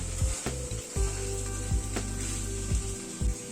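Prawn masala cooks in a pan over a low gas flame with a steady bright sizzle, broken by repeated soft thumps and scrapes of stirring at an uneven rhythm, close and fairly loud.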